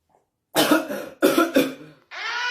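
Someone coughs hard twice in close succession, each a harsh burst, then a longer rasping sound follows; no talk.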